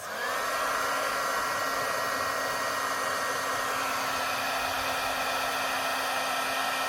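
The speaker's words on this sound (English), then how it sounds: "And now I've got my heat tool, and we're going to heat set this." A heat tool blows hot air to set embossing on a 3D embossing folder project, giving a steady, loud, continuous whirring blast that runs unbroken for the whole stretch with no talking.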